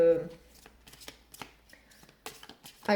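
Tarot cards being shuffled and drawn by hand, with quick papery riffles and flicks in short bursts up close, while someone talks quietly in between.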